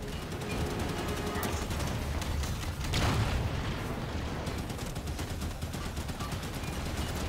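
Heavy gunfire in a Halo 5 firefight match against a warden, with rapid shots and explosive booms layered into a dense, continuous barrage and a louder blast near the middle.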